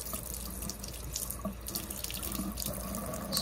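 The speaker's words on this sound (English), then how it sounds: "I don't have the water running for too long" Water runs steadily from a tap into a sink at a nail technician's workstation, a continuous moderate splashing rush with no talking.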